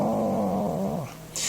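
Voice imitating a cat's meow while reading a story about a black cat in bishop's robes, one drawn-out, wavering, sung tone that slides down and stops, close and clear.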